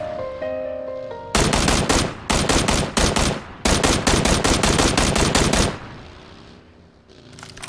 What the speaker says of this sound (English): I opened fire, once again wasting more ammunition